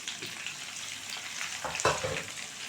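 Curry leaves and green chillies frying with onions in a pan: a continuous soft sizzle, close, rising into a brief louder crackle and spatter near the end, no voices.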